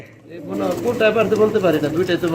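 Soft, repeated pigeon coos roll along close by, layered with a murmuring voice in the background.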